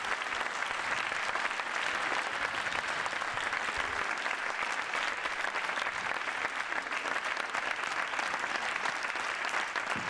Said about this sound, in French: Je crois qu'on peut applaudir nos intervenants